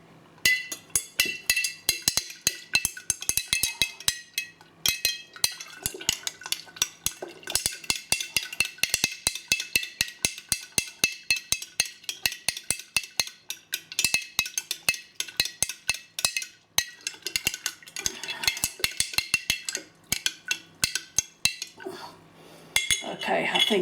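A metal spoon stirs red food colouring dye in a container for hand dyeing, giving rapid, repeated clinks and scrapes against the sides in steady bursts, fairly close and loud throughout.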